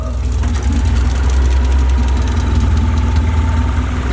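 A car runs on a freshly set-up engine, idling loud and close with a steady low, lumpy throb and a slight knock, with no talk.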